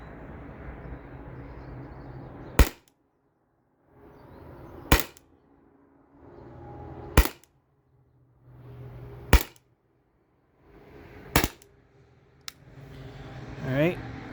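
Five sharp cracks from a Salt Supply S2 launcher fired at a target about two seconds apart, each loud and abrupt, with talking and background noise between the shots.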